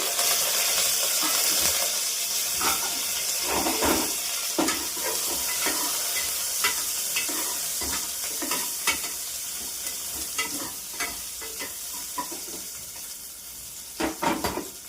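Chopped onions and curry leaves sizzle in hot tempering oil with mustard seeds for a village-style greens saaru, a steady close frying hiss with scattered crackles and pops throughout, no voices.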